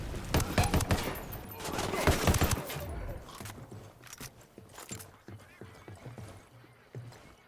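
A GTA video game shootout erupts in a dense, crackling volley of gunfire that then thins into scattered shots and fades, with heavy rapid cracks layered at the start.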